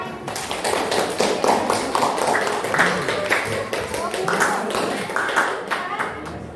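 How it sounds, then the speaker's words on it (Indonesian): Classroom group applause in a coding and AI teacher-training session, steady hand claps lasting several seconds with a speaking voice over them. "Tepuk tangan."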